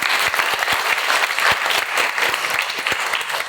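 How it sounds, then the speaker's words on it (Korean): An audience at a church youth conference applauds with steady, dense clapping that fills the room at close range and continues without interruption. "감사합니다. 박수로."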